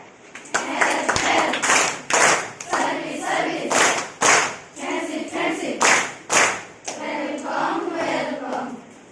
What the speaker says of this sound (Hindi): जेआरसी ताली शुरू करेंगे